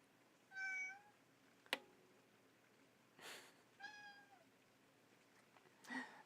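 A cat meows several times, short separate calls spaced across a few seconds, fairly faint against a quiet background, with a sharp click and brief noise bursts between the meows.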